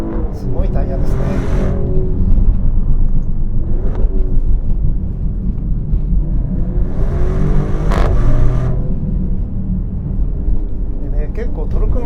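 A Maserati Grecale Trofeo SUV on Bridgestone Potenza tires accelerates along a winding road, its engine note rising and falling continuously at close range with brief upshifts, under steady cabin and road roar while someone talks over it.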